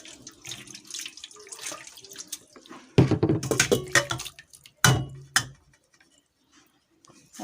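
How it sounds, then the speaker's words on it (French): Water pours into a pot while bissap (hibiscus) juice is being made, arriving in two close, splashing bursts of running and filling water, with quiet handling and soft clinks before and after and no talk. "Cette fois-ci, j'ajoute des millilitres d'eau."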